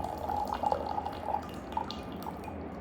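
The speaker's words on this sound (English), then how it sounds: "we're going to tilt the lid, we're going to grab it by the lip, and then we're just going to pour into our sahai." Brewed Taiwanese high mountain oolong tea is poured from a small lidded brewing vessel into a serving pitcher, making a soft, close trickle with light dripping that fades out toward the end.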